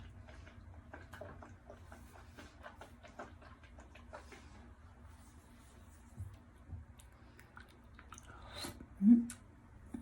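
Someone chewing a soft, melting bite of charcoal tooth-whitening product, faint close-up mouth clicks and moist smacking in quiet, ending with a short hummed sound.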